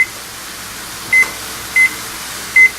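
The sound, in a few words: oven timer beeping while being set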